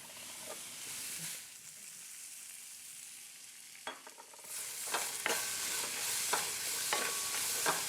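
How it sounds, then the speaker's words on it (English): Fresh onion sautés in a pan with a soft sizzle that swells louder partway through, broken by several sharp scraping stir strokes, close and with no voices. "we're just gonna cook the onion until it starts to sort of become translucent"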